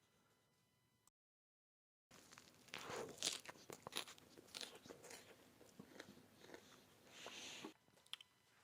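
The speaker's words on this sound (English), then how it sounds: "So first off the bat, let's try out the Zinger burger." Crunchy bites into a KFC Zinger spicy chicken burger with a crispy patty, followed by close, wet chewing and munching in irregular bursts, with no talking.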